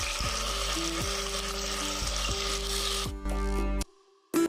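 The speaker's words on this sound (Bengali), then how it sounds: "অল্প অল্প করে মাছ ভেজে নিচ্ছি" Katla fish pieces fry in hot mustard oil in a kadai, a dense steady sizzle and crackle with a few soft stirring scrapes, ending in brief quiet gaps.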